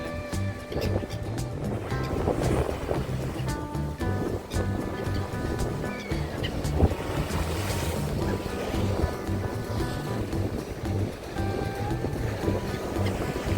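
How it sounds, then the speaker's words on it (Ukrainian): Rough Black Sea storm waves at Lanzheron beach, Odesa, surge and crash continuously amid gusting wind buffeting the microphone, a loud churning wash with no voices. "І хвилі. Хвилі, шторм."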